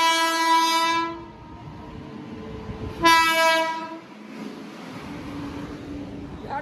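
Train horn blasts twice, long harmonic tones near and loud, over the steady rumble of a passing train beside an airport runway, with continuous rolling noise between and after the blasts.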